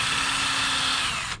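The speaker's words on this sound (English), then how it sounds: "take your drill out and switch to the angle." A power drill whirs steadily at high speed for over a second while drilling an angled hole, then cuts off abruptly; close and loud, no voices.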